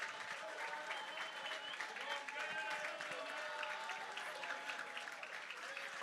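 Audience applause at the Transform Africa Summit 2023 closing ceremony, greeting the Miss Geek Africa winner. Steady, dense clapping runs throughout, with sustained tonal voices or music layered over it.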